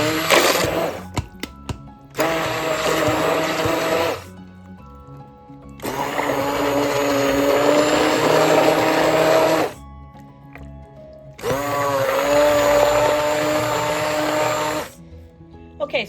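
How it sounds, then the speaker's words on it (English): A handheld immersion blender whirs through zucchini soup in three sustained bursts of several seconds each, loud and steady with short quiet pauses between them. "now that I'm rediscovering my immersion blender, I'm going to use that to mix this up."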